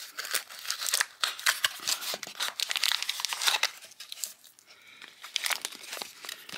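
Plastic packaging of a SmallRig 3526 camera windshield being ripped off, loud close crinkling and tearing in several bursts, with no talk.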